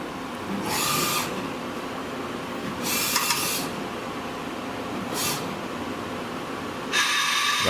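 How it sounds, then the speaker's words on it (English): A 2007 Citizen M32V CNC Swiss lathe runs a live tool on its gang slide, a steady mechanical drone broken by several louder bursts of high whine as the spindle speed changes, with no talking. "Running the live tool on the gang slide."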